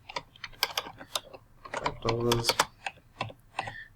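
Keystrokes clatter on a computer keyboard in quick uneven bursts while an invoice is typed in, close and moderately quiet, with a soft pause midway.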